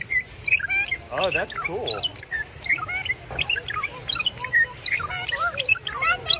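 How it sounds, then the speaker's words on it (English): A parrot at the San Antonio Zoo squawks repeatedly among other chirping birds in an aviary, sharp calls scattered over a busy background while visitors talk briefly. "There's a parrot up there."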